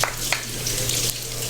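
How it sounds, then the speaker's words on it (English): Garlic fries in a pan with a steady, close sizzle and a soft hiss that carry on without a break, with occasional small crackles on top. "I'm going to heat up the garlic a little bit"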